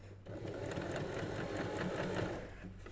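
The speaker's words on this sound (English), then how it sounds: "I've just done a teeny tiny reverse stitch" A sewing machine runs a tiny reverse stitch on a narrow doubled rolled hem, a steady close motor hum with quick needle pulses for about two and a half seconds before easing off.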